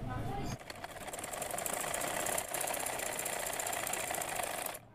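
A sewing machine runs steadily, stitching the side seam of a kameez in one continuous pass, with a rapid mechanical whir that starts after a short pause and stops abruptly near the end.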